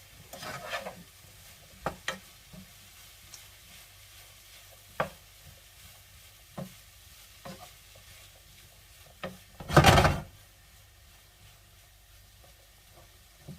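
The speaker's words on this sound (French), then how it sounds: "Je mélange et je laisse cuire l'échalote et les champignons." Shallots and mushrooms stirred in a pan, with soft intermittent scrapes and taps over a quiet low sizzle, and one louder burst of clattering near the end.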